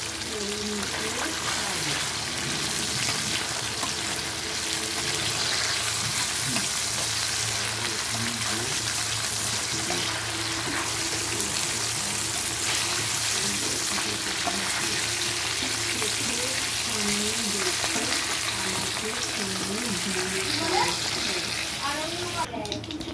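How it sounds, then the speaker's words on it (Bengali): Fish fries in oil in a frying pan, giving a steady dense sizzle throughout, with a voice talking faintly underneath at times. "আর এখানটা মাছটা ভাজছি।"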